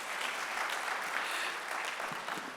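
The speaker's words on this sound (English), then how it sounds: "Big applause to dadis and nanis of our house." An audience applauds steadily for the grandmothers of the house, a dense wash of clapping that holds through without any voices on top.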